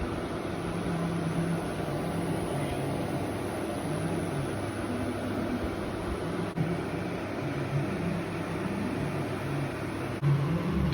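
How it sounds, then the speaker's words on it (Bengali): Herbal kada boiling in a pot over a high gas flame gives a steady, even rushing hiss and low bubbling roar that stays constant throughout, with no voices. "আমি এখন 5 মিনিটের জন্য এটা হাই ফ্লেমে ফুটিয়ে নেব"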